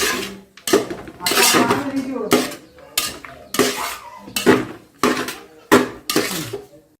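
Metal spoon stirring turmeric powder into chicken biryani in a pot, a series of loud scraping clanks against the pot wall in a steady rhythm of roughly one stroke per half second, close up with no talking.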